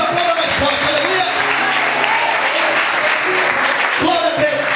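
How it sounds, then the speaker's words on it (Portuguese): A church congregation applauds steadily through a worship service, a sustained wash of clapping with voices and cheers mixed in throughout. "aplauda mais forte"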